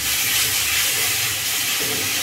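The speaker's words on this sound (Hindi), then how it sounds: "लहसुन अदरक अच्छे से फ्राई कर लेंगे" Garlic-ginger paste fries in oil with a continuous, loud, airy hiss close to the pan, steady throughout with no voices.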